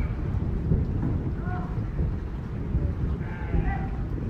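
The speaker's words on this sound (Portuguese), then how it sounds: "Olha a estraladeira do trovão, menino." Thunder rumbles low and continuous through a rainstorm on a farm, with rain hissing steadily over it and brief faint animal calls in the background.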